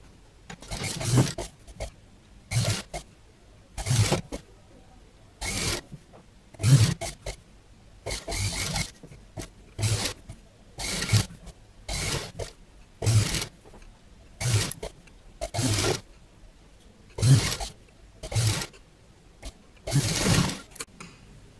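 A sewing machine stitches piping on a katori blouse in short, regular bursts repeated more than a dozen times, each a brief mechanical run against a quiet background.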